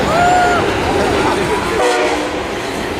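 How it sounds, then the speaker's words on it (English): A train passing by the Branford station, a loud continuous rumble with horn tones sounding over it, voices faintly audible underneath. "we also have a train going by"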